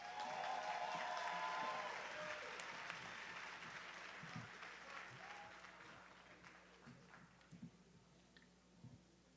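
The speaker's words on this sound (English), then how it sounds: "Let's give our commencement speaker another round of applause." A crowd at a 2026 high school graduation ceremony applauds the commencement speaker, a dense wash of clapping that starts loud and gradually thins and fades over about nine seconds, with a few scattered claps and faint crowd murmur near the end.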